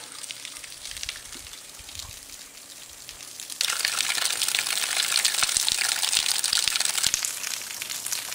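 Water trickles over small falls in the Grand Canyon, a soft steady rush that swells into a loud, continuous gush midway, heard close with no talk.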